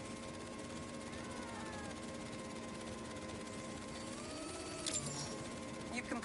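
Buzzing drone hovering in Marvel's Spider-Man 2, a steady layered whine that shifts pitch slightly near the end, with a short brighter burst around five seconds.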